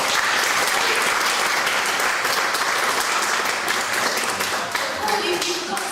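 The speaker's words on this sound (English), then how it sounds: "So give a big round of applause." Sustained applause from an audience at a stage show fills the scene, loud and dense with steady clapping throughout, while a few voices talk faintly underneath.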